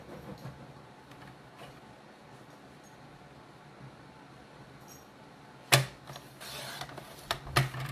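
Cardstock trimmed by a quarter inch on a paper trimmer, heard as a sharp slicing stroke near the middle followed by a few brisk sliding and clicking sounds, close and fairly loud against a quiet room.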